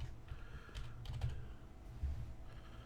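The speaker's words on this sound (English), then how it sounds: "we'll log on as Adama and our super secret password" Password keystrokes on a computer keyboard during a Windows Server 2022 domain logon, a soft, quiet run of clicks at an uneven pace, fairly close.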